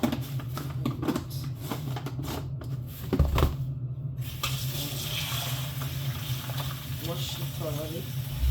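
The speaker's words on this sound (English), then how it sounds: "we'll start by washing our meat" Raw meat is washed with salt under a running kitchen tap, water splashing and gurgling steadily into a sink with occasional handling clunks, while a person talks over it.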